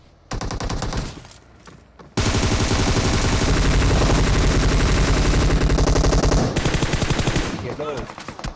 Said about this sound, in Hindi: अब यहाँ पे मैं टोमी गन क्यों चला रहा हूँ?